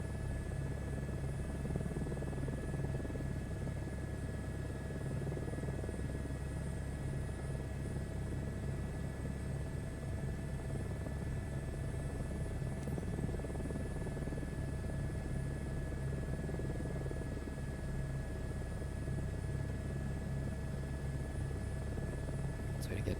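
Steady whine and rumble of a helicopter turbine engine in flight in MSFS 2024, continuous and even throughout, with a high tonal whistle over a low drone.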